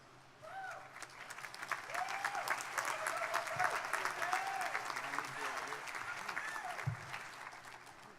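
A commencement crowd breaks into sustained applause that swells and holds, dense clapping in a large gathering, with brief tonal chirps and a few thumps mixed in.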